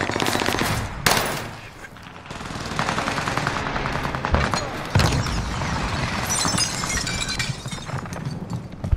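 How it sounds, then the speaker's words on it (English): A flashbang thrown and detonating in the Call of Duty game on Rebirth Island, a sharp bang inside dense, continuous gunfire and combat noise, with a second loud burst a few seconds later. "Using flashbang."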